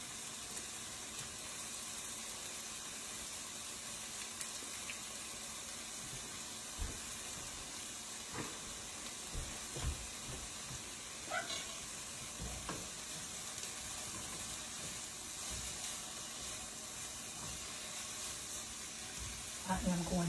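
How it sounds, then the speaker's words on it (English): Teriyaki sauce with chicken simmers in a pan on low heat, a soft continuous sizzle and bubbling hiss with occasional clicks and stirring scrapes, fairly quiet, with a person speaking at times. "my teriyaki sauce is starting to come to a boil, so I'm going to turn it down on low and let it simmer"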